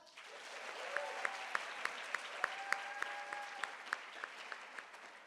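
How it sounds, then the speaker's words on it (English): An audience applauds at a HOSA Washington Leadership Academy opening session in a large hall, a steady wash of clapping with some sharp individual claps standing out, moderately loud throughout, while a voice speaks over it briefly. "Can we get a round of applause for that?"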